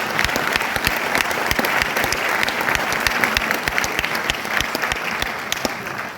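Seminar audience clapping in a hall, steady dense applause with sharp individual claps standing out, continuous and fairly close for several seconds without talk.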